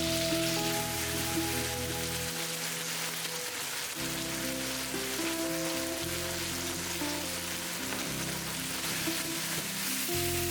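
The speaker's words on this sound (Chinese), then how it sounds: "里面撒一点盐，把豆腐放进去煎到发黄" Tofu fries in a pan with a steady, hissing sizzle that runs throughout, beneath soft background music.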